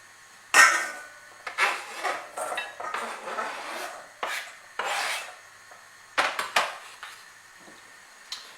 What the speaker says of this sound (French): Donc là on l'a fait bien à l'horizontale pour essayer de faire des longues carottes râpées comme ça